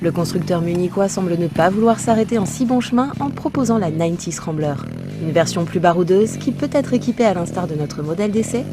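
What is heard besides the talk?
None of the usual background noises is heard.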